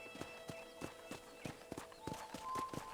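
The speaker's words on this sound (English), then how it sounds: "let's see if you can still ride a horse." Horse hooves clip-clop steadily at a walking pace in the western game Red Dead Redemption, fairly quiet and close, with no talk over them.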